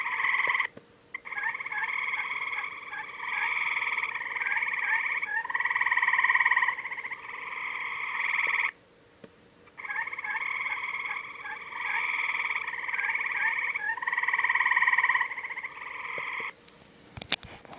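A frog croaks in two long, pulsing bouts of rapid, trilling calls separated by a short pause, close and clear against a quiet background.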